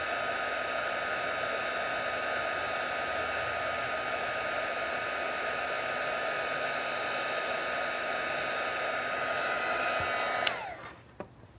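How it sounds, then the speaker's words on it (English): A handheld craft heat tool blows hot air onto puffy paint on a flower card, a steady, close whooshing hum with a faint whine, running continuously for about ten seconds before clicking off and winding down. "If I use my heat tool, all of that paint is going to puff."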